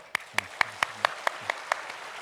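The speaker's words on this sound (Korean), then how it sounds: "우리 환영의 박수로" Sparse applause from a church congregation welcoming people during a Sunday worship service: about eight distinct, evenly spaced claps, moderately faint over quiet room tone.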